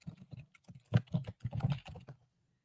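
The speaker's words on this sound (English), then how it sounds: "I'm just typing in data engineer in here." Typing on a computer keyboard, a quick burst of about a dozen close, crisp key clicks in an uneven rhythm before it stops, with no voice.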